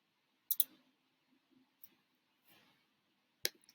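Computer mouse clicks while editing an email template: a few sharp, quiet clicks spaced irregularly, with faint handling noise between them in an otherwise quiet room.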